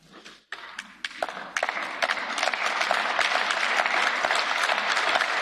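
Applause in a parliamentary chamber for Jean-Claude Juncker's State of the Union speech, starting with a few isolated claps, then swelling into sustained, dense clapping from the assembled crowd.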